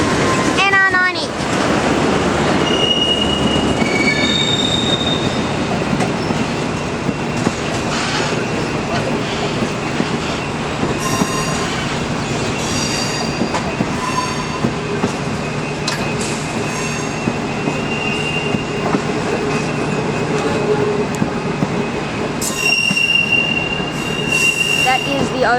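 NR90 diesel locomotive hauling the Overland passenger train through Southern Cross station in Melbourne, with loud continuous wheel squeal and rail rumble, clicking over joints, and scattered voices in the background.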